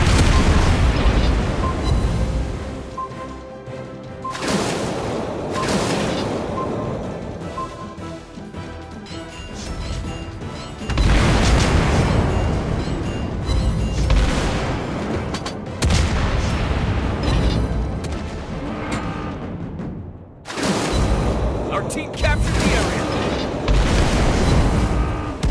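Torpedo blasts and naval gunfire in World of Warships Blitz, with a Benham destroyer firing torpedoes: repeated heavy booms and crashing impacts in dense waves, broken by short pauses, loud and continuous.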